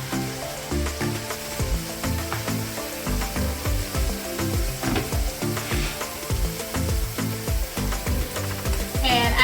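Sofrito for beef empanadas sizzles and fries steadily in a pan, a continuous close, moderately loud crackle with rhythmic stirring pulses throughout, no talking over it.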